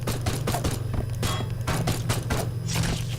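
Rapid bursts of player gunfire from the Haydee video game, a dense fusillade of sharp shots firing continuously over a steady low mechanical hum, loud and close throughout.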